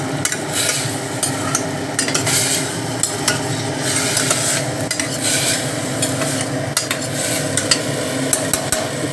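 Lentils (dal) fry and get stirred in a pan over steady low sizzling, with irregular scraping and clinks of a utensil against the metal running throughout, close and continuous.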